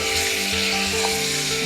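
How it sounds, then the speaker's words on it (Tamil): Mutton pieces sautéing in hot oil in a pan, a close steady sizzle and crackle with soft scraping from stirring, no talking. "கறி வந்து நல்லா வதக்கி கொடுக்கணும்."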